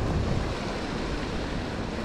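Ocean waves break and wash against a rocky jetty, a loud, rough rush of surf mixed with wind buffeting the microphone, with no voices.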